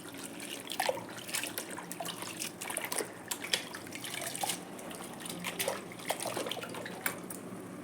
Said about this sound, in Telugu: పెద్ద గిన్నెలో నీళ్ళు ఎక్కువగా పోసుకొని కడుక్కోండి బాగా కడగండి